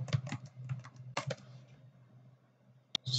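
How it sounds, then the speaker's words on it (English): Keystrokes on a computer keyboard while entering data into software, starting as quick bursts of close, crisp taps, pausing into near silence, then ending with a couple of sharp isolated clicks. "you just need to type it here"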